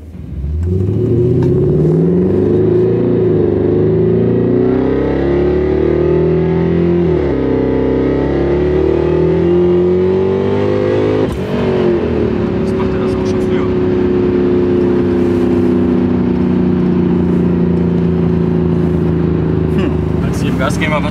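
Supercharged Mercedes C63 AMG engine accelerating hard during a test drive, a loud continuous roar with rising and falling pitch as it revs toward about 6000 rpm, briefly cutting out before pulling again, with voices talking in the car.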